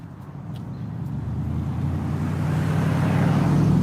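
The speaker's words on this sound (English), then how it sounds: "They all have the very loud mufflers here." Cars with loud mufflers pass along Main Street in Denton, Maryland, a deep engine rumble that builds steadily louder as a vehicle approaches, over faint wind noise.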